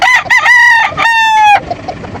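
A gamefowl rooster, a sweater crossed with golden boy, crows loudly and close by in one long drawn-out cock-a-doodle-doo with a brief break in the middle, followed by faint background noise.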